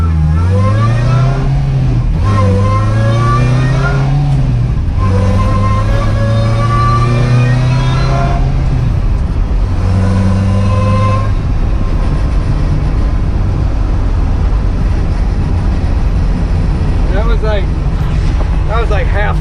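A supercharged 22R engine in a 1960 Rambler accelerating at half throttle, loud and close, its drone climbing in pitch through repeated rising sweeps before settling into a steady roar.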